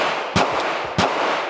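Two loud gunshots ring out at a shooting range, about half a second apart. Each is a sharp, close crack, and a steady outdoor hiss fills the gaps between them.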